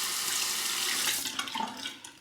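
Hot water gushes from a bathroom tap into a sink while a razor is rinsed during shaving, a loud, close rushing stream that splashes briefly and then tapers off near the end.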